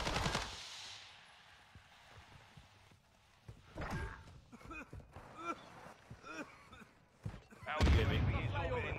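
Gunfire rattles in a military shooter video game, bursts of rapid shots mixed with impacts and explosions, while voices and radio chatter speak over the action.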